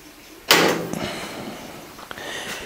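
A freeze dryer door being opened after a milk and yogurt batch, a sudden loud whoosh and release followed by a fading hiss and a couple of small clicks, close by with no talk.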